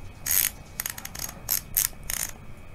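A Weapon Animal PRO ratchet freehub on a bicycle, greased inside, gives off several quick bursts of close, fairly quiet ticking clicks, separated by short pauses as the hub spins.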